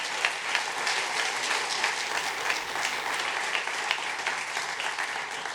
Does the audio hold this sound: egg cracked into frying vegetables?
no